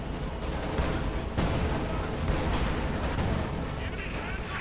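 Artillery bombardment in the Company of Heroes 2 real-time strategy game, heard as dense, continuous booms and rumbling impacts throughout under a commentator's voice.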